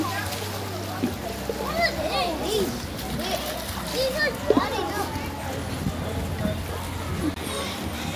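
Water splashing as children get soaked outdoors in Luxembourg, irregular close splashes mixed with excited kids' voices and shouts throughout, fairly loud and busy.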